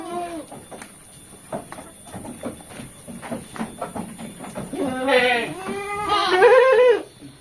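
Goats at a livestock breeding pen bleating, a few scattered calls early building to loud, close, drawn-out bleats near the end over a noisy background of clatter and movement.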